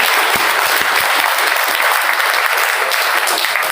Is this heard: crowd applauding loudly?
yes